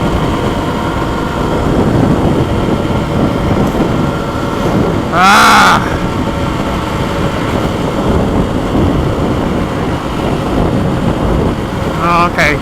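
A Kawasaki KLX300 motorcycle engine bogs down and loses power while riding on a road, giving a steady, muffled low drone mixed with rushing wind noise, with one brief brighter burst midway.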